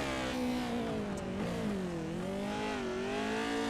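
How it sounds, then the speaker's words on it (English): A Pro4 off-road racing truck in a racing video game revs hard through a corner at Crandon, the engine note rising and dipping in a steady, moderately quiet whine that blends with the scrabble for traction. "you can hear him getting all the power, trying to just dig up that little bit of traction and catapult the truck out of the corner"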